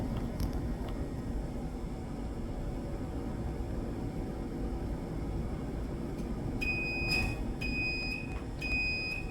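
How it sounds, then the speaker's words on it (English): A water tank overflow alarm sounds in a rising-level monitoring setup, three high electronic beeps pulsing near the end over a steady low machine hum, after faint clicks earlier on. "Now the alarm's ringing,"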